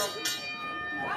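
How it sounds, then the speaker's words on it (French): Ring bell at a JCW Bad Time wrestling show, a sustained metallic tone with a fresh strike near the start, ringing on under a commentator's talk and arena noise. "Et la cloche sonne."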